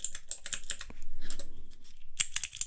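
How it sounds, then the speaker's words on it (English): Rapid clicking of a keycap fidget cube held up close, a dense burst of sharp plastic clicks, a brief pause with a soft rustle, then another crisp run of clicks. "So this is a keycap fidget cube."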